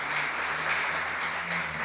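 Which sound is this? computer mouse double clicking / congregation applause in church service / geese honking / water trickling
congregation applause in church service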